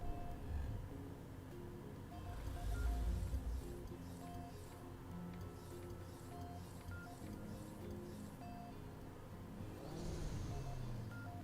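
A Nissan Silvia Spec R engine in the racing video game GRID 2 hums and revs through gear changes, rising and falling over several seconds with a synthetic, game-like tone.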